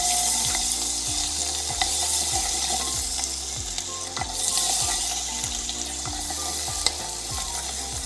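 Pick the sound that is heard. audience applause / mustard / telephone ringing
mustard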